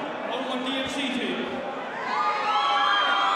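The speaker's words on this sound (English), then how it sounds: "All that cheering pays off" A crowd cheers and shouts continuously at a KFN fight event, loud and sustained, rising in intensity toward the end, with an excited voice or two standing out over the roar.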